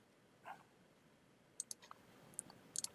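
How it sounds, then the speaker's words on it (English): A computer mouse being right-clicked, heard as a handful of faint, crisp clicks spaced irregularly over a quiet room background with no talking. "Right click."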